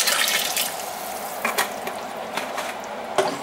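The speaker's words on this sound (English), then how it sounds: "I'm rinsing this container out at the same time." Tap water runs steadily into a container being rinsed in a home kitchen while chili is cooked, a continuous splashing hiss with a few brief knocks and clinks of the container, close by and alone.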